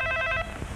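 A telephone bell rings in a short, steady tonal burst that cuts off after about half a second, leaving a quiet room hum during a comedy scene.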